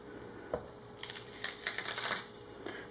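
The packaging of a Britânia Grill Gourmet Burger is opened: a single soft knock, then a dense burst of crisp rustling and crinkling from plastic and cardboard, close and moderately quiet, followed by one more light tap.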